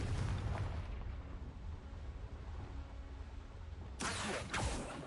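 Confringo blasting spell in Hogwarts Legacy: a dense low rumble of game ambience gives way near the end to two sharp, loud explosive bursts in quick succession.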